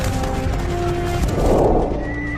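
War horse whinnies loudly up close amid a rumbling battle scene of mounted riders, the neigh rising over a dull crash and hoofbeats.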